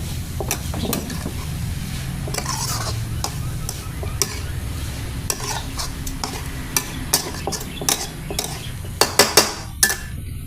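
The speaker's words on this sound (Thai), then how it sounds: "เฮาผัดเครื่องกับนกเข้ากันแล้วนะครับ" Quail and curry paste stir-fried in a pan, with steady sizzling under repeated scraping and clinking of a metal spatula against the pan, close and busy, with no talk.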